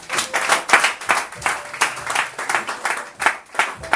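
A church congregation at a Sunday service applauds the Lord, many hands clapping in a steady rhythmic burst that holds for several seconds without talk.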